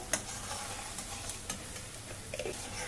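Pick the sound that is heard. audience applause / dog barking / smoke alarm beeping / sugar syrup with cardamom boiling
sugar syrup with cardamom boiling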